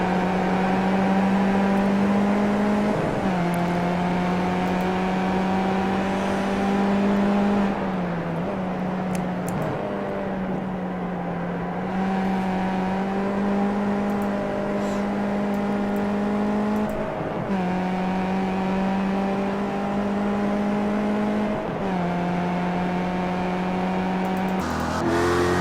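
Race car on track near the start-finish line, a steady high engine whine that dips and climbs again at several gear shifts, loud and continuous for the whole stretch.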